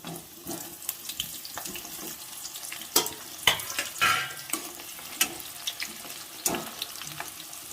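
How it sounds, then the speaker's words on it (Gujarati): Whole brinjals hit hot oil in a pan for Kathiyawadi-style curry, giving an uneven sizzle and bubbling crackle with scattered sharper pops and spatters that rise and fall over several seconds. "હવે આપણે તેલ ગરમ થઈ ગયું છે, આપણે રીંગણા એમાં નાખી દઈશું ફ્રાય કરવા"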